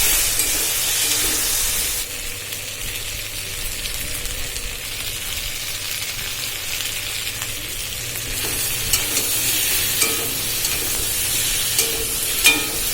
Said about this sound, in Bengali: ওর মধ্যেই আমি গাটিটা দিয়ে নেব, দিয়ে ভালো করে নুন হলুদ দিয়ে আমি এটাকে ভাজবো।